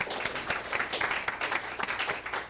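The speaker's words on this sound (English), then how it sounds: "Everyone give them a round of applause." A small group at a team game-jam check-in meeting gives a round of applause, with uneven, moderately loud claps of varying rhythm, some individual hands standing out.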